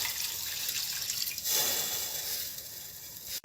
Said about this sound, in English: Then I add the water.